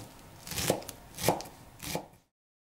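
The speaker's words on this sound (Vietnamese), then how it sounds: "Mình xắt một ít hành tím." Knife slicing shallots thinly on a cutting board, three distinct crisp chops at an even, unhurried pace, close and fairly quiet with no voices.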